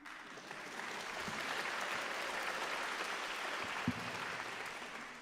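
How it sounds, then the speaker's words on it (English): Audience at the final round concert of a junior piano competition claps steadily, a broad wash of applause swelling in after a quiet start and holding at a fairly soft, even level. "and you can clap now."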